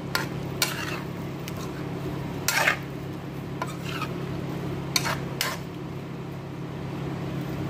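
Fried potatoes and carrots stirred into creamy shrimp in a pan, with intermittent scraping and clinking of a utensil against the pot over a steady low background hum.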